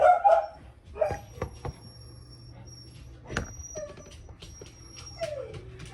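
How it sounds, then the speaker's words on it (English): An older dog barking indoors, a few sharp barks and yips at the start and then sparser whimpers and single barks, fairly close and fading. "Puppy's barking."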